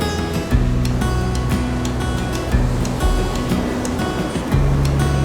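Ocean surf rolls onto the Orange County, California shore in a loud, continuous wash with repeated surges. A low rumbling background runs under the waves.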